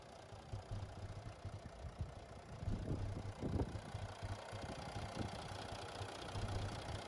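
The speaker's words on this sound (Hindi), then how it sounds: "Mercedes Benz OM 642 diesel engine है ये, 14 का एवरेज और 252 हॉर्स पावर।" A 2016 Mercedes-Benz E 350 CDI with the OM 642 V6 diesel engine, rated at 252 horsepower, idles at a low, steady rumble with faint knocking pulses, moderately quiet and heard alone without speech.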